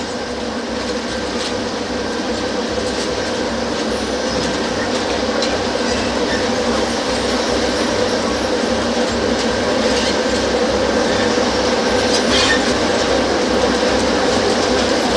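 A Mumbai Metro Line 2B train on a trial run rolls past with a continuous loud rumble and faint rhythmic rail clatter, steady throughout with no voices.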